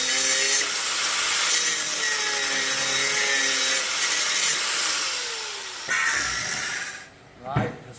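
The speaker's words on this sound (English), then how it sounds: "Sand it off a little bit." Hand sanding of a part during a 72v electric bike build, a steady close scratchy rubbing that runs almost continuously, with a voice talking over it before it fades near the end.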